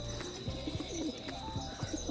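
Pigeons coo softly while being fed corn, in a repeated, low rhythmic pattern against a quiet background hiss.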